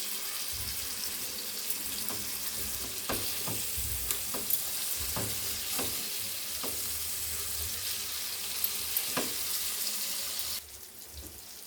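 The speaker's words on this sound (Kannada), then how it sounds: "ನಿಧಾನವಾಗಿ ಫ್ರೈ ಮಾಡಬೇಕಾಗುತ್ತೆ, ಇಲ್ಲಾಂದರೆ ಅದು ಬೇಗ ಸೀದೋಗುತ್ತೆ." Fish fries slowly in a pan with a continuous close sizzle, punctuated by several sharp spatters and stirring taps, before the sizzle drops away abruptly near the end.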